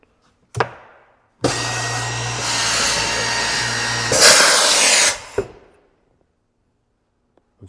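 An Omal hinge boring machine boring a hinge hole in woodwork: a clack, then the motor whirs steadily for several seconds, the pitch roughens as the bit cuts, then it stops with another clack.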